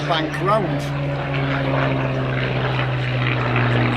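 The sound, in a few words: propeller warplane with Merlin 66 engine at air show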